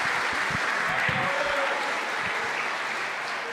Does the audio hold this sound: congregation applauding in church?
yes